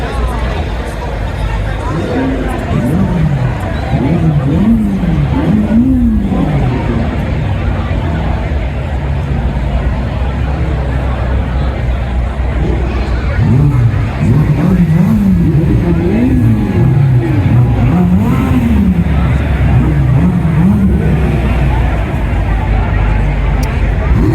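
Ferrari 550 Maranello engine at a VIP Ferrari car show, a loud continuous engine drone with repeated rising and falling revs amid crowd babble and talk.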